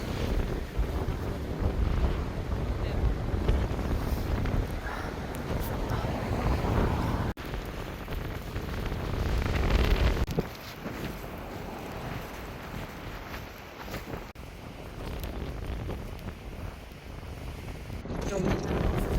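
Strong gale-force wind buffets the microphone on a seaside beach, with heavy, gusty roaring throughout and surf beneath it, while people talk now and then.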